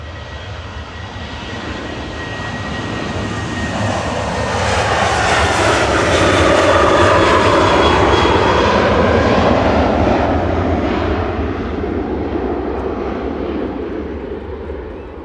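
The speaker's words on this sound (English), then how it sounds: "Ryanair departing here to Paris with flight 3722." Ryanair jet airliner departing Manchester Airport on a flight to Paris, a broad engine roar swelling steadily over several seconds to a loud peak and then slowly fading as it climbs away, with no talk over it.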